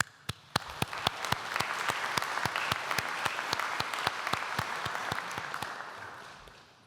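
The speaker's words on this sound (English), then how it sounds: "let's give a cheer for them" An audience at a Greenwich graduation ceremony applauds, with dense, steady clapping carried by a few sharp, close claps that keep pace from start to finish.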